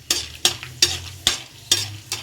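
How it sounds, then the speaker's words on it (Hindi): Chana dal and mustard seeds are stirred in hot oil for semolina upma, a spatula scraping the pan in six sharp strokes at a steady pace over a soft, continuous sizzle. "थोड़ा सा इसको चलाऊंगी"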